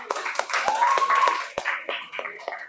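A small classroom group claps briefly at a teacher-training session for prospective teachers, giving several scattered, uneven hand claps with voices murmuring and talking over them throughout.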